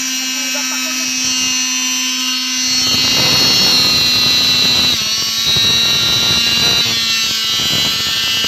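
A blender whirs loudly while making a pineapple shake, its motor starting up after a quieter stretch and then running steadily with a strong hum. Faint talk can be heard beneath the motor.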